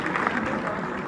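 Short burst of audience applause at a Punjabi stage event, a dense patter of clapping lasting about a second.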